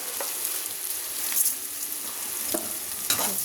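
Cooked boiled rice stirred and roasted in a pan for an Indian dish, a steady crackling sizzle with occasional scraping stir strokes of a spoon against the pan, close and moderately loud, no voices.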